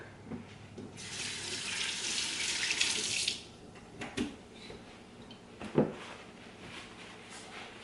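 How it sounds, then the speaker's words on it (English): A kitchen tap runs for a couple of seconds as hands are washed under it, a close rushing splash that stops, followed by a few clatters and knocks from the sink. "I'm going to wash my hands"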